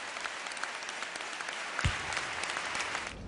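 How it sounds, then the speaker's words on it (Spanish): A standing ovation for King Juan Carlos at a Constitution of 1812 ceremony, a dense, distant-sounding wall of applause from a large crowd that holds steady throughout. "Ovación cerrada para don Juan Carlos, que se ha levantado agradecido."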